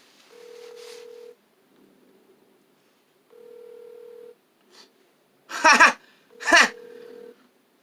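Two long ringback tones sound over a phone speaker with a pause between them, followed by short bursts of nearby laughter and voices.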